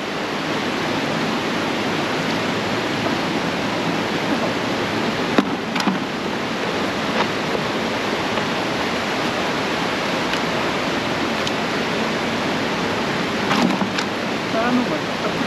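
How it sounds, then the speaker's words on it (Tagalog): Steady broadband hiss of rain falling in the mountains, an even wash of sound throughout with a few faint clicks and drips, and a voice heard briefly in the background. "Isang ulan sa bundok."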